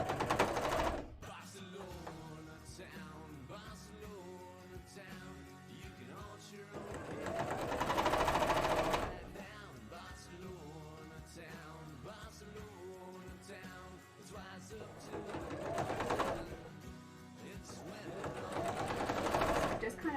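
A sewing machine stitches a hem on a Neeko cosplay from League of Legends, with several long steady whirring runs that rise and stop in between, close, and a person talks over parts of them.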